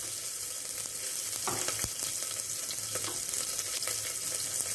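Small onions frying in ghee make a steady, close sizzle that crackles without pause, with a few faint clinks of a utensil against the pan.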